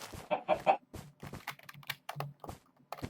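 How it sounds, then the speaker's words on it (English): Chickens in the video game Minecraft give short, quiet, clucking calls in a choppy sequence, with faint tapping like keyboard clicks scattered underneath. "I'm hearing chickens. I'm not hearing... Hello, chicken."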